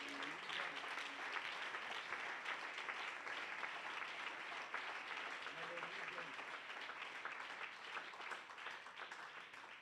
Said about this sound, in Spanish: Apláudalo, usted lo puede aplaudir por eso.